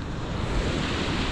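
Ocean waves at a beach resort in La Union, a broad continuous roar of surf mixed with wind buffeting the microphone, loud and steady.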